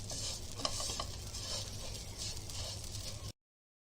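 Coconut powder roasting in a pan, a steady dry scraping hiss with spoon stirring, close and continuous for a few seconds before cutting off abruptly, no voices.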